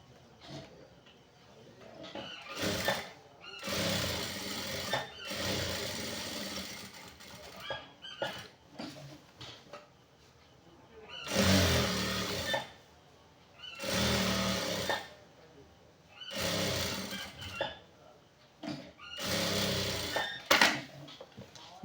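Sewing machine stitching a seam on pencil-cut full-length pants, several bursts of fast, steady whirring and needle chatter separated by short pauses, close by and fairly quiet.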